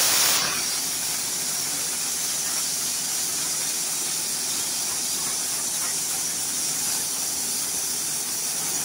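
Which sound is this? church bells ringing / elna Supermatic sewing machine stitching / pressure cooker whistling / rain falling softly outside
pressure cooker whistling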